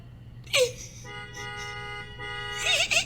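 A car horn honks in long sustained blasts outside a house, with a voice shouting briefly at the start and again near the end.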